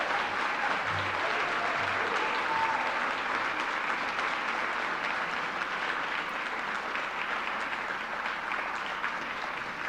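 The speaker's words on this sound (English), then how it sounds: "keep that applause going. Give it up one more time." Sustained applause from a gala audience at an adoption charity event, a dense, even wash of clapping that holds steady and fairly distant throughout.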